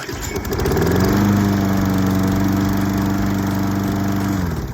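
A push lawn mower's small engine catches after a pull-start and settles into a loud, steady running drone close by, holding for several seconds.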